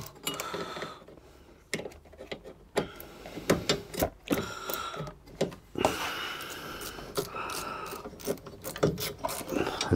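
Screw being driven into a Renault Twingo 1 fan assembly, the tool giving repeated ratcheting clicks and scraping turns up close, with a stubborn screw binding in plastic; mechanical clatter continues throughout with brief gaps.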